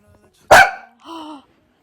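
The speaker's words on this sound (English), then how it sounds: "you barking at me?" A single sharp dog bark, loud and close, followed by a shorter, softer vocal whine or second bark, in an otherwise quiet indoor room.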